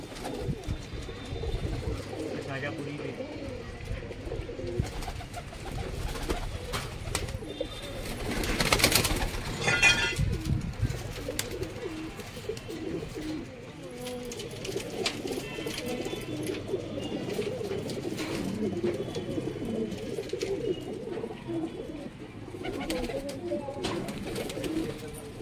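Desi high-flyer pigeons coo in soft, repeated low calls throughout at a pigeon market in Amravati, steady and fairly close, with some background noise and a brief louder burst partway through.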